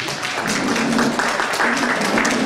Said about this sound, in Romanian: aplauze pentru tinerii căsătoriți